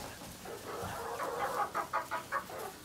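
A barred rock hen gives a short run of soft, rhythmic clucks, about five evenly spaced notes over a steady background hiss in a backyard coop.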